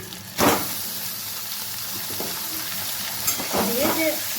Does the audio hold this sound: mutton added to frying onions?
yes